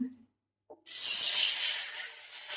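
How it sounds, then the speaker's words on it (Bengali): Oil poured into a hot kadai bursts into a loud, steady hiss after a brief quiet start and keeps sizzling to the end. "কড়াইতে এবার তেল দিয়ে দিচ্ছি"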